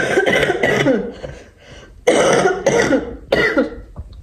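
Several harsh coughs come in two close clusters, loud and near, with a short pause between them.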